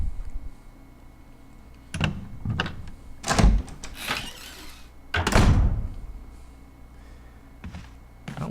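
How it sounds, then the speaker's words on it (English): A door opens in the Resident Evil REmake mansion with a series of heavy wooden thunks and creaking scrapes spread over several seconds, set against quiet, low ambience. "Go through this door."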